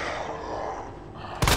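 One sharp gunshot in Resident Evil 2 Remake cracks near the end after a stretch of low game ambience and faint zombie groaning.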